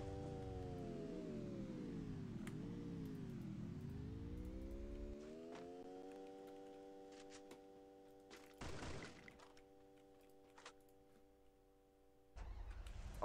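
A car engine in the Free Fire video game, with a steady droning hum that sweeps up and down in pitch and then holds, a few brief clicks and thuds, and no one speaking.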